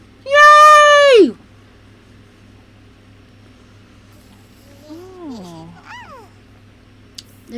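A cat meows in a video game with one loud, drawn-out meow at the start, followed after a pause by a few quieter, shorter chirping meows.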